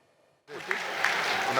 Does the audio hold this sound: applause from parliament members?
yes